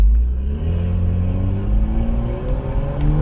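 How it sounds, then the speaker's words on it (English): A car engine revs steadily upward through the gears as the paddle shifters are used, a loud, close drone whose pitch climbs in repeated sweeps. "The car sounds like it's being forced."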